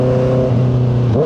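Inline-four engine of a 2025 Honda CBR650R sport motorcycle revving loudly up close, a steady droning tone that dips and then climbs sharply at the end.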